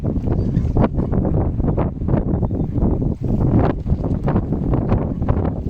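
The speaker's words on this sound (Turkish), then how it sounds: "bugün biraz rüzgar var." Strong, gusty wind by the sea roars against the microphone outdoors, loud and constant with rushing surges and no voices.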